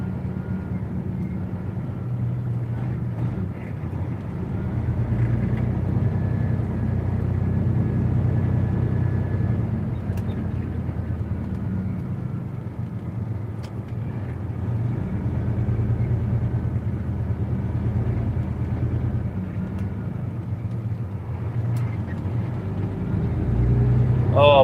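A loaded truck's engine in low range crawls slowly through a lane closure, giving a steady, close, low diesel rumble that holds for the whole stretch with slight swells in revs.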